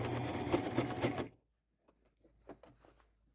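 A sewing machine runs a zigzag stitch on a plain white shirt in a steady, close whirring burst of about a second, then stops, leaving only faint handling clicks and rustles.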